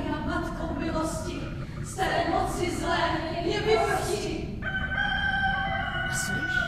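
A rooster crows loudly and close by during a theatre performance of Erben's Kytice, several long strained calls in a row, while a voice talks underneath.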